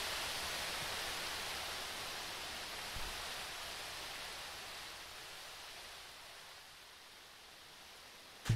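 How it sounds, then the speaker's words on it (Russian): A Minecraft waterfall rushes as a steady broad hiss of falling water, loud and continuous, fading slightly toward the end, with no talking. "он теперь будет шуметь, этот водопад вонючий"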